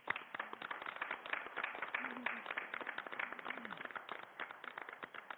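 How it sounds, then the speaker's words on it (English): Applause and clapping at a city council meeting for Madison Street Festival 2022 grant recipients: dense, steady crowd clapping filling the room for several seconds, with a faint voice briefly audible underneath. "please help me in giving a huge round of applause to the Madison Street Festival 2022"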